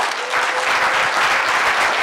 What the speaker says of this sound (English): Can they all get a very generous last round of applause, please?